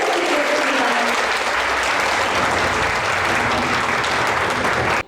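Loud, steady audience applause fills a hall at the opening of the 2023 Environmental Startup Competition, a dense wash of many hands clapping continuously throughout, with no talk over it.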